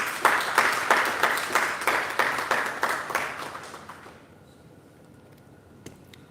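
Conference attendees at a facility management practitioners' event in Nigeria applaud a presenter once more. A burst of rhythmic, fairly close group clapping lasts about four seconds and then fades to near quiet, with one or two stray claps afterward.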